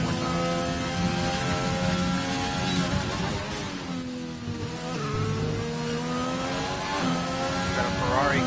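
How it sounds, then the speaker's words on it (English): Ferrari race car in a racing video game pulling out of the pits, engine revving and shifting through gears with rising and falling pitch, loud and close throughout, with talk over it. "Got a Ferrari coming out of the pits."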